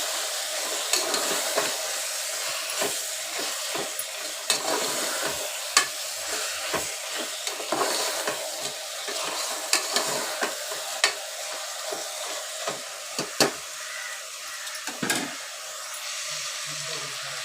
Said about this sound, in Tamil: சிக்கனை சேர்த்து இந்த எண்ணெயிலே நல்லா வேக வச்சுக்கலாங்க